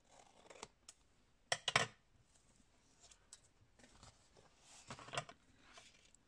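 Scissors cut along a traced guide line, likely through paper or card, with a few sharp, close snips in short clusters separated by quiet gaps.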